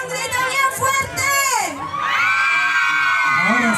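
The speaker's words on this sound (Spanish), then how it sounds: "Todas gritan, por favor. Chicos, un grito bien fuerte." A crowd of young party guests shouts and cheers loudly at a nighttime dance celebration, with high-pitched, sustained whoops and yells that swell and carry on continuously throughout.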